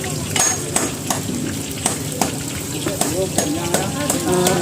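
Food sizzles loudly in hot oil at a busy Ramadan market stall in Pariaman, with steady crackling frying, the scrape of a stirring utensil against the pan and regular metallic clinks, while people talk nearby.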